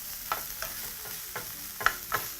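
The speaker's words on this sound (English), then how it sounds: "I'll just proceed to toast those in the pan, reducing my heat to low completely at this stage" Light sizzle from food toasting briefly in a pan on low heat while shrimp are cooked, with soft scraping stirs at irregular intervals over a quiet frying hiss.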